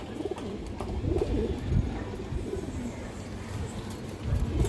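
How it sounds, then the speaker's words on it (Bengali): Pigeons at a breeding farm coo in low, repeated throaty murmurs, close by and fairly steady throughout. "খুবই সুন্দর একটা মাদি কবুতর"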